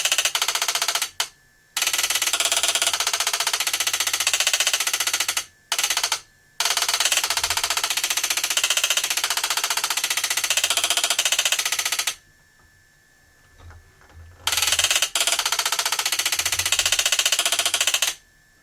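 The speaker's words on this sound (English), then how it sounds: "Definitely not a quiet meter, though right now its cover is off." NLS Model 64 digital voltmeter, about 62 years old, with its cover off and stepper relays running, a loud dense mechanical chatter in long bursts broken by short pauses and one longer gap.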